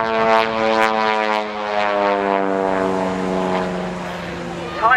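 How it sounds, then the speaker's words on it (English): A small S1 propeller biplane with roughly a 23-foot span flies at the Shoreham Airshow, its engine a loud, steady buzzing drone that shifts slowly in pitch as it passes, with an announcer talking over it. "Little biplane."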